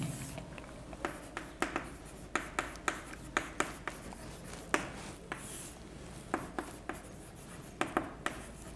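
Chalk or marker strokes on a board during an English grammar lesson: quick taps and scratches in an irregular rhythm, some bunched together and others spaced apart, close by with no talking.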